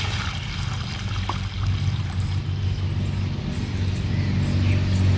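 A pot of water is poured onto a small soil bed, making a steady, continuous splashing gush up close that runs unbroken throughout.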